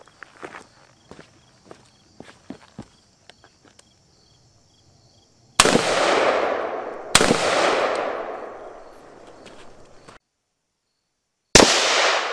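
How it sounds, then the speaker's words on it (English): Three loud rifle shots of M855 green tip ammunition strike a Level III steel-threat armor plate at 25 yards, each a sharp crack with a long rolling outdoor echo, preceded by faint footsteps and handling noises. "Give it two rounds at 25 yards,"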